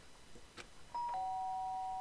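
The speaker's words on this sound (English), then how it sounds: "The sharp sound of the doorbell pierced my sleepy haze" Doorbell in a Danganronpa Trigger Happy Havoc game: a clean two-tone ding-dong chime rings once, loud and close, after a quiet stretch with faint rustling.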